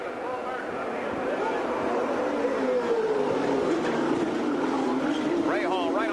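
Turbocharged CART Indy-style race cars at the 1990 Vancouver street race rasp through a hairpin, a steady engine drone with rising pitch sweeps near the end, heard under a commentator's continuous talk.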